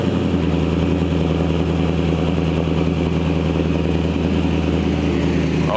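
A 1960 Chevrolet Apache truck with an LT4 engine idling, a loud, steady, close rumble with a faint uneven lope and no pauses.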